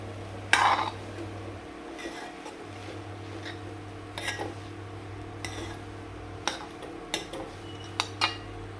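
Cooked rice being tossed and mixed into fried rice in a pan, with intermittent spatula scrapes and clinks against the metal over a steady low hum, no voices.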